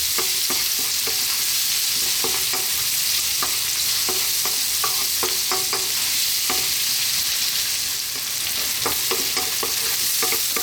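Onions fry with bacon bits in an uncleaned pan over medium heat, a loud, constant sizzle broken by repeated clicks and scrapes of stirring.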